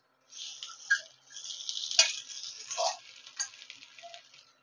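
Cooked pulihora rice is tipped into a pan of hot tempering and stirred, giving a quiet, close sizzle with scraping and mixing sounds in uneven bursts.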